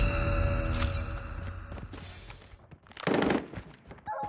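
Rapid automatic gunfire from the mobile shooter Call of Duty Mobile, played on the Kurohana Metropolis map, comes as dense bursts with a loud final burst near the end.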